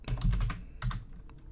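Quick bursts of keystrokes on a computer keyboard while setting up TensorFlow on a Raspberry Pi, a dense run of clicks, a short pause, then a few more taps, close and moderately loud with no talking.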